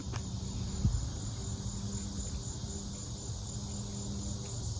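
Crickets chirp in a continuous high-pitched trill over a low background rumble of distant traffic.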